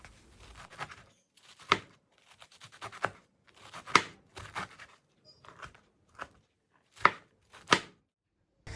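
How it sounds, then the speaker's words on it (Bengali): Khesari greens are finely chopped with a knife on a board, sharp irregular cuts in quick bursts with brief pauses between, close and crisp against a quiet background. "ঠিক এই রকমভাবেই সব খেসারি শাক কুচিয়ে নিচ্ছি।"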